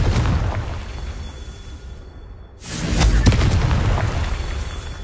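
A Confringo spell explosion in the Hogwarts Legacy video game: a loud, broad roaring blast that dips into a brief near-silence, then a second booming burst swells up and rumbles on to the end.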